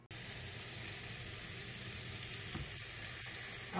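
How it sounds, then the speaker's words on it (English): Garlic sizzling in olive oil over high heat for seafood pasta: a loud, continuous, close frying hiss with a few faint stirring clicks near the end. "I have my garlic and olive oil on high heat"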